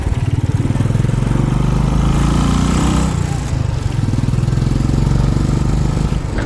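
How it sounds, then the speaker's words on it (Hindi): A motorcycle engine runs steadily and loudly up close on a road between Gurbathan and Phapar Kheti, with a continuous mid-pitched drone and slight revving throughout. "आगे आगे एक तो बाइक जा रहा है रे"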